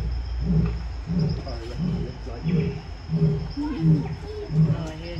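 A lion at Chessington World of Adventures gives a series of low, rhythmic grunting roars, repeated roughly every half second to second, at moderate distance with background chatter.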